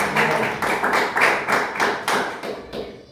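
A church congregation claps in praise of Jesus, with steady rhythmic clapping in unison at a brisk regular beat that stays loud and close, with no talking.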